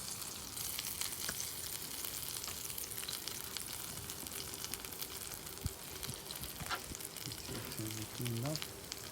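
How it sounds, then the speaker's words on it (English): A rolled chicken quesadilla sears in a hot pan, a steady close sizzle and crackle running throughout with a few faint clinks. "And then you want to sear this bottom first."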